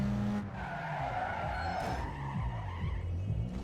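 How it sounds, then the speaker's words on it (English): A car brakes and skids with a long, loud tire squeal over a steady engine drone, racing game audio from Need for Speed Underground 2, with no talking. "I knew you had good brakes, I wasn't worried."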